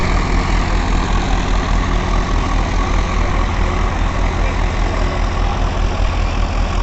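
A Mahindra 575 tractor engine at 1500 RPM rumbles steadily and loudly, a dense, unbroken low drone with a throbbing beat and no pauses, close by, with no talk over it.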